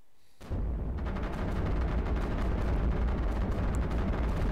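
Cannon turrets in the strategy game iBomber Defense fire in a dense, continuous barrage of booming shots and explosions, loud and close after a brief quiet start, with no talking.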